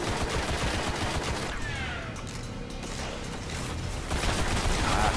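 Dense, continuous gunfire from the Destiny video game, with rapid overlapping shots and mechanical clatter sustained loudly throughout the clip.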